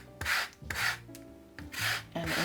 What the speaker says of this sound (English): I have my zester here and a fresh lemon. I'm just going to zest this lemon